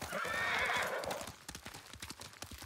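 Horse in Ghost of Tsushima whinnies loudly and clearly, followed by a run of close, steady hoofbeat clip-clops.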